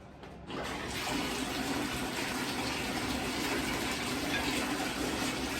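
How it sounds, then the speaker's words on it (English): Water runs steadily from a tap in a bathroom to soak a clay roasting pot, a continuous full rushing flow starting abruptly after a brief quiet moment and holding even to the end. "I am going to soak the clay pot."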